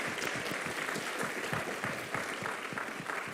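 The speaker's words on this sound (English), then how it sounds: "Give them another warm round of applause" Warm round of applause for panelists at a Founder's Day convocation, a steady patter of many hands clapping together, moderately distant and continuous from start to finish.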